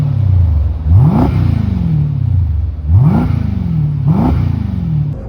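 Jeep SRT with a valved X-Force exhaust revving in three sharp blips, each rising quickly then falling back to a throbbing idle, close and loud with no voices.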